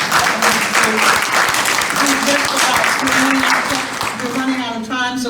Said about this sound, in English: you all join me in a wonderful applause.